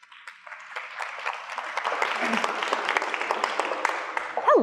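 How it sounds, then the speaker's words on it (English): Audience applause fills a lecture hall for a science-and-history talk on steampunk, a steady dense wash of many hands clapping that holds evenly throughout and rises slightly toward the end. "Please give her a warm round of applause."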